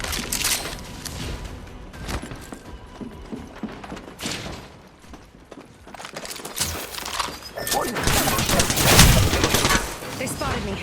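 Enemy gunfire in a combat video game, bursts of rapid shots crackling close by amid mechanical clatter and scattered battle noise, rising to a loud volley near the end.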